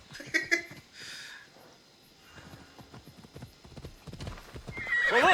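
A horse in a video game: hooves clip-clop over the ground and a clear whinny sounds near the start, with a rising loud rush at the end.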